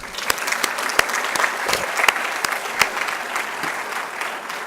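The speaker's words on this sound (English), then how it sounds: "We can clap for her, though." An audience at a fall State of the College address claps steadily, with individual sharp hand claps standing out above a continuous moderate wash of applause.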